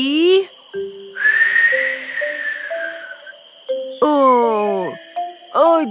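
Clear, close whistling with a long wavering note and several shorter sliding tones, separated by brief pauses, alongside a few pitched sound effects.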